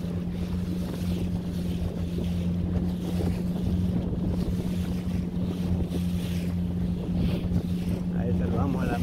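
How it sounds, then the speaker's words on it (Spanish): Strong sea waves slap and churn around a boat crossing the Gulf of Fonseca toward La Unión, El Salvador, under a steady motor drone and gusting wind noise, with faint voices in the background. "Está un poquito fuerte las olas del mar"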